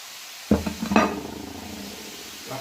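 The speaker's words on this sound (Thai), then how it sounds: "แล้วเราก็กล่ำปลีลง" Shredded cabbage dropped into a pan of hot oil with dried shrimp, giving a sudden sizzle and clatter as it is stirred, then a steady frying hiss with a few scrapes.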